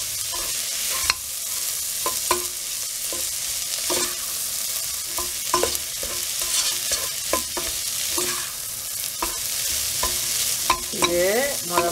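Chicken and egg sizzle in a pan for fried rice while a utensil stirs and scrapes in repeated sharp strokes, close and continuous, with no voices.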